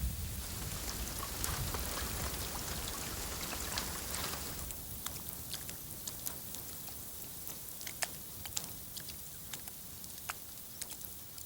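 Steady rain falls on open ground in lion territory, a dense even hiss with sharp scattered drops ticking through it, moderately loud and continuous throughout.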